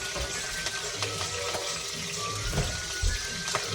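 Brinjal drops into hot oil for ennai kathirikai, water on it making a dense, continuous sizzle with sharp pops and crackles throughout, close and fairly quiet.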